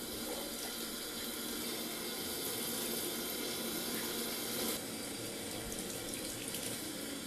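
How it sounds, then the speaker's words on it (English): Water sprays steadily around a shower door in a leak test, a continuous close hiss of running spray with a slight shift partway through and no talk. "start spraying around the door"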